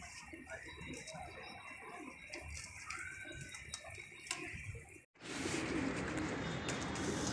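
Pigeons coo softly amid other bird calls for several seconds, then a brief gap gives way to a louder rushing, water-like noise.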